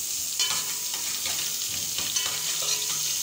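Finely chopped onions sizzling in hot oil in a pan while being stirred, a steady bright crackle with periodic scraping strokes, close and alone.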